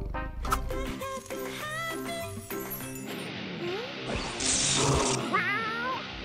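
A cartoon cat meows in a quick series of pitched, expressive cries over background music, close and loud, followed by crashing and jingling effects.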